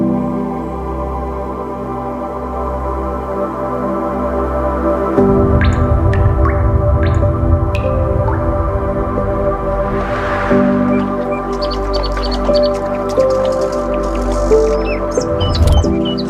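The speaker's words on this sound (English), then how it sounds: "The water is crystal clear and the sound of stream echoes throughout the cave." A crystal-clear stream flows beneath a limestone cave, a steady rushing wash with scattered drips and faint chirps echoing through the chamber.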